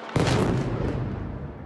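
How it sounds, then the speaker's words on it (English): A single heavy boom from drone strikes and gunfire in Kyiv hits sharply and then rolls into a broad, rumbling tail that lasts more than a second. "as gunfire mixed with the sound of explosions"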